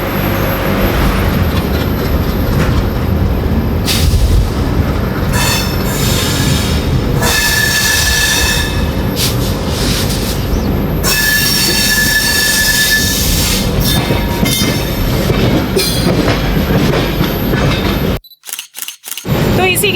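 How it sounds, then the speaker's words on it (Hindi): The Suvidha Express passenger train pulls out, heard from on board as a loud, continuous rumble with wheel squeals and clattering rail noise, ending in a brief dropout. "तब टाइमली हमारी ट्रेन यहाँ से चल पड़ी है।"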